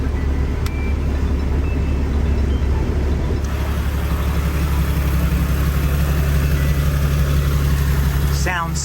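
A rebuilt 2002 Porsche 911 Cabriolet engine idles steadily with a low, even rumble throughout, with no talk over it.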